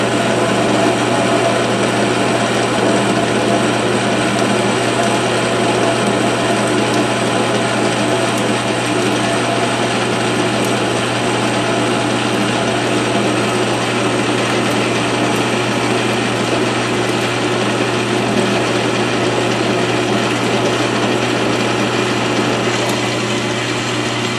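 South Bend 13-inch lathe taking a 50-thousandths cut, a steady loud mechanical whir of gears and spindle with a low hum and continuous ratcheting clatter running unbroken throughout.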